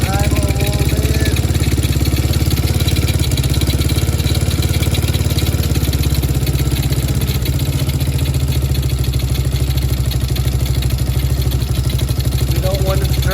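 A TaoTao Chinese quad's engine idles high with a steady, loud, continuous drone and clatter close by, and people talk over it.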